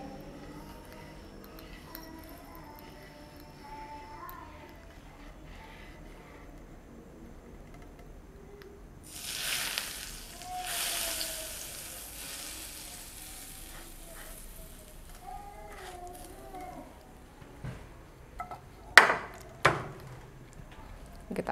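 Hot Betawi-style sambal matah poured over cooked eggplant, a bright burst of sizzling that swells midway and fades, followed by scattered stirring clinks and scrapes, with quiet kitchen background before it.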